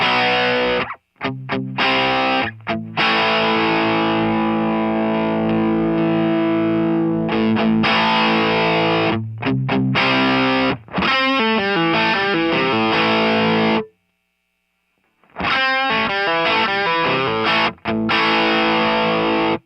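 Crunchy overdriven electric guitar through a Great Eastern FX Design-A-Drive pedal and small speaker, playing sustained chords and riffs with brief pauses, loud and up front, with no voices.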